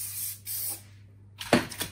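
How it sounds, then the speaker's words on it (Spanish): Cooking-release spray sprayed into a cake tin before pouring in a yogurt sponge batter; a few short hissing bursts, close and fairly loud, separated by quiet gaps. "Y las paredes podríais ponerle mantequilla y harina o un spray desmoldante."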